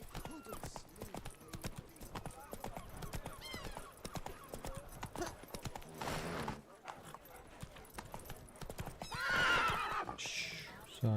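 Roach, a horse in the video game The Witcher 3, clip-clops along with steady hoofbeats and lets out a whinny near the end, with game ambience and voices throughout.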